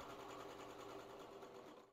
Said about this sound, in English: now she is serging all these little triangles together